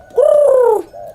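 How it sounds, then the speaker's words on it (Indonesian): A spotted dove (tekukur) gives one long, loud cooing note up close, used as an eerie sound effect in a spoken horror story. A softer, shorter coo follows, with no talk over it. "Nat, tiba-tiba terdengar lagi suara burung tekukur yang sempat ngikutin mereka di jalanan hutan"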